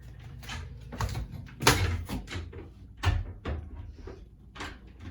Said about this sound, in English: when I open this door and I closed it behind me